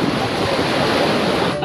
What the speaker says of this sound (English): But just listen to the wind and see the waves